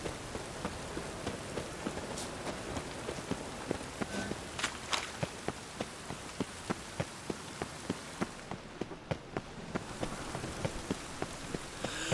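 In The Witcher 3: Wild Hunt, rain falls steadily as a dense wash of patter. Regular footstep-like thuds run through it throughout, and no one speaks.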